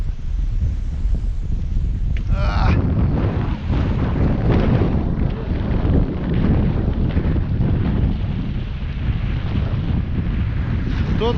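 Strong wind buffets and roars against the microphone on an open-water fishing outing, a loud, continuous gusting rush with water sounds beneath it.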